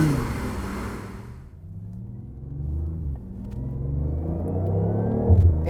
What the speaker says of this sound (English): throw it in sport, the gasoline engine fires up, and you've got full control over the gears with the paddles, and the sound comes to life